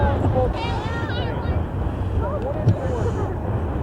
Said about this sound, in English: Very sunny, but extremely windy.